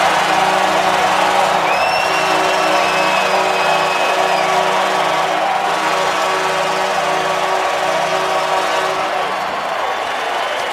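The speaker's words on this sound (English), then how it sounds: "Crowd still buzzing" A hockey arena crowd keeps a loud, steady roar after a goal, with a few high whistles or whoops rising above the continuous din.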